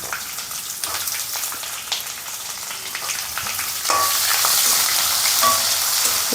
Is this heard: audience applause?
no